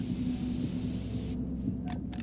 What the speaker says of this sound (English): Let me just spray this cool healing breeze in your face.